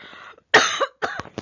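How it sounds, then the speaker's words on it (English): A harsh cough bursts out, followed by a couple more short coughs, close by and loud with brief pauses between. "This cough doesn't go away."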